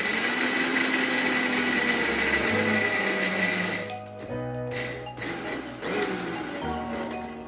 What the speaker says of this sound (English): I'm going to grind them into coarse powder, not paste.